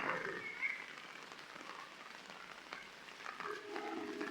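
Heavy rain falls outdoors at a trade fair, making a faint, steady hiss and patter throughout with no clear breaks.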